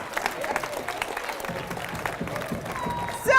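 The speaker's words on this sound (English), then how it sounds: "Give them a round of applause." An audience claps and cheers at a youth leadership session, a loose, uneven patter of applause with scattered voices and shouts mixed in, ending in a louder burst.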